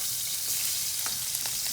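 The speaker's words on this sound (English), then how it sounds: "Ooh, the sizzle, yeah." Chopped onions sizzle in hot oil in a pan, a dense continuous hiss with faint crackles, steady and close with no talk.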